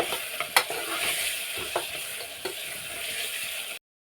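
Spiced potato and rice mixture is stirred in a pot, giving a continuous sizzling hiss with a few scraping clinks of the spoon before the sound cuts off abruptly.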